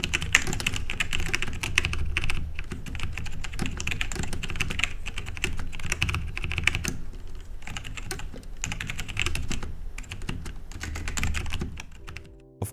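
Rapid, continuous typing on a Logitech G810 Orion Spectrum mechanical gaming keyboard, dense overlapping keystroke clicks close to the mic, steady for about twelve seconds with no voices before trailing off.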